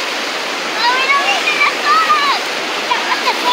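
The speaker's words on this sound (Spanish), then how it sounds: "de allá vienen las olas y te va a pegar en la nariz" Strong waves splash and wash ashore in a continuous broadband roar, close and loud. Voices chatter underneath.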